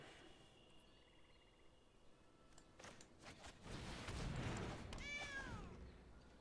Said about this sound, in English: That was the noise of a very small kitty.